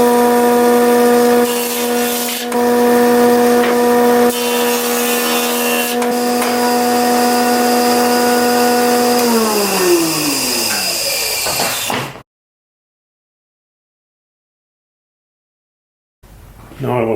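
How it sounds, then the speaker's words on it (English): A jointer planes boards with a loud, steady machine whine and rough cutting roar. The motor then spins down with a falling pitch before cutting off into silence, and a brief noise returns at the end. "So I'm going to run these through the joiner."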